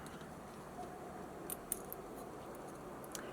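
Pre-Max scissors are handled close by, giving a few soft metallic clicks and small snips against a quiet background, with one sharper click standing out midway and no voices.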